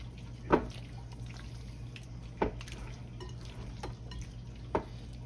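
Creamy potato salad with mustard is stirred in a bowl, giving soft, wet squelching and scraping with a few sharper knocks of the spoon against the bowl, fairly quiet and close, with no talking.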